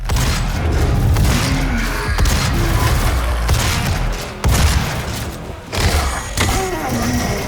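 Shotgun blasts in a first-person shooter, a rapid series of loud booming shots with heavy thumps, most prominent around the middle and end.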